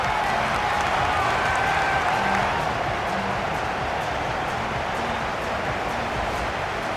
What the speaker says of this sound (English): as the players applaud the fans who have been backing them today